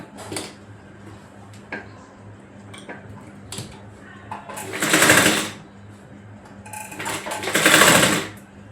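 A sewing machine stitches pleats into a little girl's frock, running in two loud whirring bursts after soft clicks and fabric handling, with someone talking quietly between runs.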